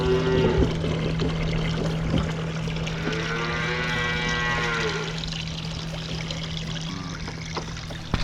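A weaned red band calf lets out a long, drawn-out moo close by, over a steady low hum and the trickle of water being poured into a bucket.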